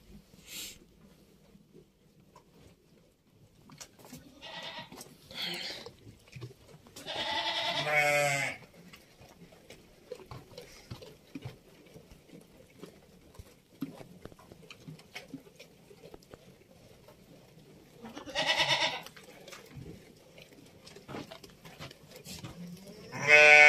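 Goats bleat several times at intervals, fairly close, over a quiet rustling background with no talking.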